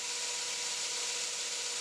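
Belt grinder fitted with a 120 grit belt grinding bevels on a knife blade: a steady, even hiss from the abrasive, moderately loud and unbroken, with no talk.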